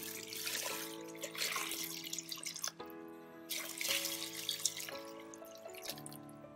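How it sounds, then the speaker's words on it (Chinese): Water is poured into a pressure cooker holding lotus root and mung beans for a vegetarian soup. A continuous gurgling, rising-pitched fill runs for several seconds, close and moderately loud, with no talk. "加水"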